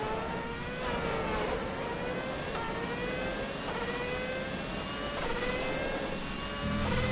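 A V6 hybrid race car engine whines and climbs in pitch through repeated gear shifts, a steady high-revving drone passing at moderate distance.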